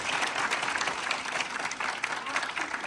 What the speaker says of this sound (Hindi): हेमलता जी के लिए तालियां बजा दो।